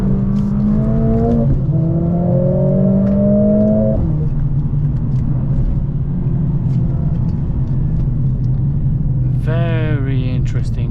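A Mercedes-Benz CLA45S AMG in drift mode roars loudly from inside the cabin, its engine note climbing and shifting through gears before settling into a steady drone, with a brief voice near the end.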